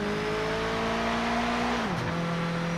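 A steady, droning race car engine from the video game Project Motor Racing on PS5, with a high whine that drops in pitch near the end, continuous and fairly loud with no talking.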